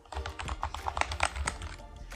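Typing on a lubed Amkette EvoFox FireBlade membrane keyboard: a quick, steady run of soft, muted keypresses, close and fairly quiet.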